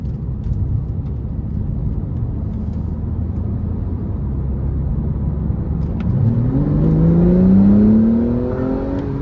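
Close, loud engine of a 2018 Porsche 911 Carrera 4S with its 3.0 twin-turbo, droning steadily and then rising sharply in pitch as it accelerates hard, with no voices over it.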